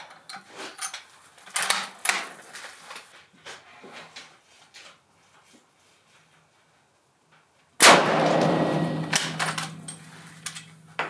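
A Springfield 1903 rifle fires on a range: light handling clicks come first, then, after a short silence, one sharp, loud report that rings on into a sustained, noisy tail.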